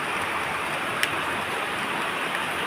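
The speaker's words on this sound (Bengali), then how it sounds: "অনেক বৃষ্টি, চতুর্দিক দেখলি বৃষ্টি বৃষ্টি" Dense, steady roar of heavy rain pouring down, an unbroken wash of hiss with one faint tick partway through.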